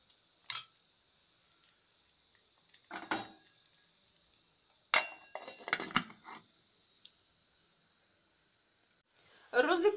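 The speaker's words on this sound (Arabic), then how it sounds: "هقلب الرز بتاعي واغطيه واسيبه يتشرب" A metal spoon clinks and scrapes as rice is stirred in a pot, in scattered bursts separated by quiet gaps, ending with a louder clatter as the lid goes on.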